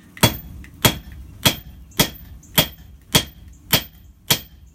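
A blacksmith's hammer strikes heated metal on an anvil while forging a leaf keychain, eight sharp ringing blows in a steady, evenly spaced rhythm, loud and close with no talk.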